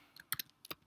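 Quick keystrokes on a computer keyboard as an email address is typed, six or seven crisp clicks in an uneven burst, close and fairly quiet.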